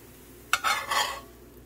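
A corn tortilla is flipped in a hot pan, giving a sharp short contact sound and then about half a second of crackling sizzle that fades out.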